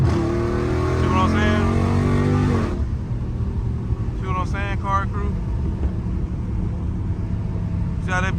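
A Dodge Scat Pack engine roars loudly while drifting, then the revving cuts off abruptly and the engine drones lower with a sputtering, choking break, while someone talks over it.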